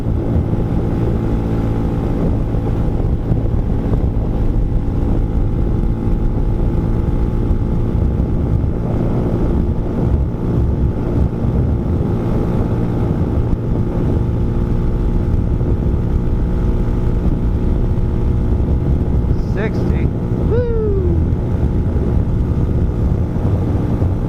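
A 2020 Honda Hawk 250 motorcycle cruising in fifth gear into a strong headwind, its steady engine drone and road rumble continuous and loud with heavy wind buffeting throughout, no talking.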